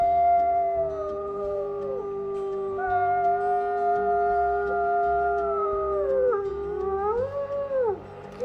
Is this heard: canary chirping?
no